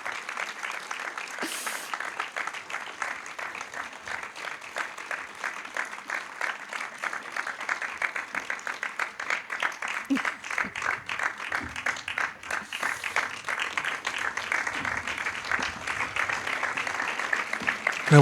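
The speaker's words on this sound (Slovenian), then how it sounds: "Še en velik aplavz pa si zasluži tudi naš nocojšnji slavljenec." A theater audience at a tribute evening applauds continuously, a dense, sustained crackle of many hands clapping that holds steady and builds slightly toward the end.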